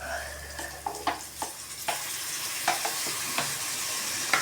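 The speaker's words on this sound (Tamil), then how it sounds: "சோயா சாஸ் போட்டு நல்லா ஃப்ரை பண்ணிட்டு" Fried rice stir-fried with soy sauce in a pan: a soft hiss of frying broken by sharp, irregular scrapes and taps of a spatula, close up with no voices.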